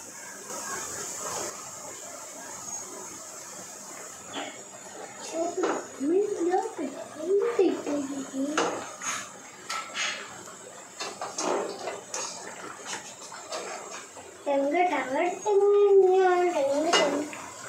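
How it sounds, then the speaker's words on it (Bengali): Rohu fish pieces go into a pot of boiling curry with sharp metallic clinks of a utensil against the pot, scattered among speech and a voice. "এখন আমি মাছগুলো দিয়ে দেব।"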